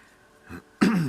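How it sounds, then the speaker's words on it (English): A brief, close throat-clearing cough: a short muffled hack followed by a louder, rougher burst. "Coughing like mad this morning."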